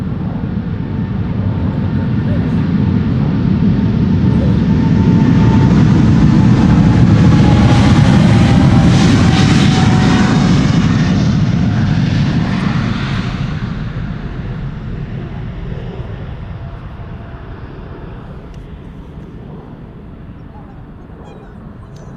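Loud roar of a China Southern Cargo Boeing 777 freighter jet at Schiphol Airport, swelling to a peak around the midpoint and then slowly fading as the aircraft passes and recedes.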